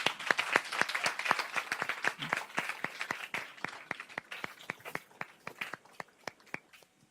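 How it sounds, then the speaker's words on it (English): Audience applauding a panel at a Women's History Month café event, dense clapping at first that thins out into scattered individual claps near the end. "Let's give them all a round of applause."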